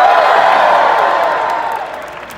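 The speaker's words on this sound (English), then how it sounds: "It's good to hear I got a bigger cheer than the cheese puff" A large convention crowd at a Star Wars Celebration closing ceremony in Chicago cheers and whoops loudly and continuously, a dense roar that slowly fades over a couple of seconds.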